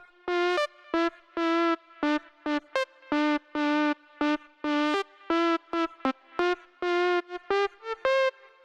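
An electronic synth lead in a Don Diablo–style track, treated with plate and hall reverb, plays a busy run of short, punchy, bright notes in a choppy rhythm, loud and alone with no voices.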